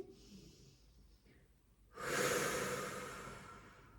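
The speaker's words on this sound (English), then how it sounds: "take a deep breath in" A long, deep breath drawn in while holding a child's pose stretch during a wall Pilates session, a broad airy inhale that swells suddenly and stays strong and close for about two seconds.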